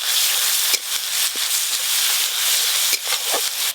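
Chopped onions frying with a ground spice paste of ginger, cumin and chilli in a pan, giving a steady close hiss and sizzle with a few faint clicks of stirring.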